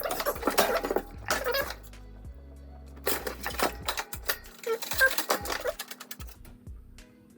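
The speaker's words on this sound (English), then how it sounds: "Just unscrew these finger screws here." Finger screws are worked loose from the side panel of a budget gaming PC case, giving bursts of sharp metallic clicks and rattles separated by quiet pauses, with no talking.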